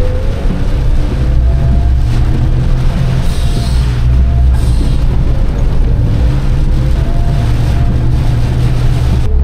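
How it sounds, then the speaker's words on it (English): A turbocharged Suzuki Jimny with a 180,000-kilometre turbo and a snorkel fitted roars loudly up close. Its deep, continuous engine drone carries faint rising whines and hissy bursts as boost builds and vents. "it is building some boost because it's making boosty noises"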